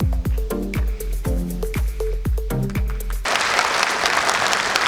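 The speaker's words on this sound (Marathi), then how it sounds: "सर्वांनी जोरदार टाळ्या वाजवायच्या आहेत." An audience at a Marathi dance show breaks into dense, loud applause that fills the hall for a couple of seconds, coming in after a run of rhythmic bass-heavy music beats.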